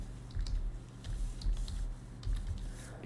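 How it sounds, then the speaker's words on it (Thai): Typing on a computer keyboard while entering variable names into SPSS, a close, steady patter of soft key clicks with no talk. "เราก็จะพิมพ์ตัวแปรแบบนี้"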